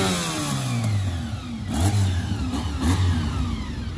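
A V4 four-cylinder motorcycle engine that revs to around 15,000 rpm is heard up close, loud, and alone, with several throttle blips whose pitch climbs sharply and then falls back toward idle.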